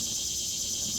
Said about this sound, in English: cicadas are losing their mind.